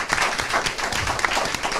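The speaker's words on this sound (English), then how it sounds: "Let's give them another round of applause." A board-meeting audience applauds a boys basketball team after their season, scattered hand claps forming a moderate, steady round of applause at middling distance.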